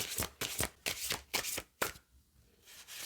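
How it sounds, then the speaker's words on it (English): A deck of oracle cards being shuffled by hand in several quick riffling bursts with short gaps, close and clear, then trailing off into quiet. "Not the best shuffle."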